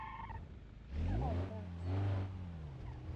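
Opel Astra engine in a video game revving up twice in quick succession, each burst rising and falling in pitch over a steady low drone, loud and close, with no talking over it.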